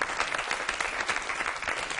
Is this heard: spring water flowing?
no